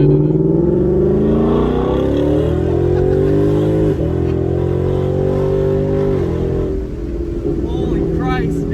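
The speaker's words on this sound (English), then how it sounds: "as you can hear, with that exhaust note, which is absolutely throaty" Ford Mustang GT with a 5-liter Coyote V8 accelerating hard, its deep, throaty exhaust note rising in pitch through the gears, loud and close from inside the car, with a shift dip partway through.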